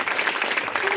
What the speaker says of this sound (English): Another round of applause for Kristen.